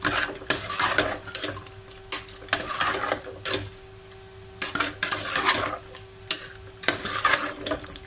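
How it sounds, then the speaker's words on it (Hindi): Garam masala stirred into chicken biryani in a metal pot, a run of repeated clattering spoon scrapes and knocks against the pot with light sizzling underneath, close and without talk. "गरम मसाला, मिक्स कर दें।"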